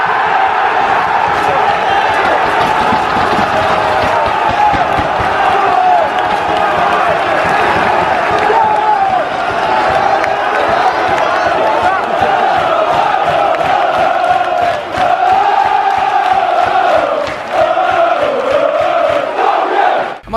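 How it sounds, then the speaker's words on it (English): A large football crowd roars and cheers loudly and continuously at a stadium on the last day of the season, celebrating goals, with bursts of clapping and whoops throughout. "Equally as loud cheers for goals that are going in elsewhere."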